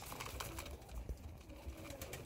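Mangalagiri Lalsira line pigeons coo softly and intermittently at close range over a steady low background hum, with no voices.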